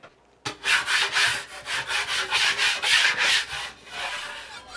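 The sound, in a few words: spreading a thin layer of joint compound on drywall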